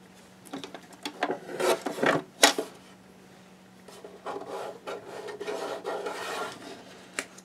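Cardstock is cut into a 1-inch strip with a paper trimmer, giving several close scraping, rasping strokes and a couple of sharper snaps, with quiet gaps between.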